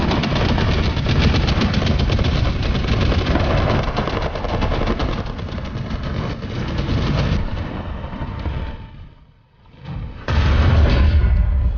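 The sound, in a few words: tank reversing and firing its gun in video game War Thunder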